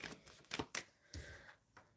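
Tarot cards shuffled in the hands, a few quick soft riffling bursts and taps separated by short pauses, close and quiet.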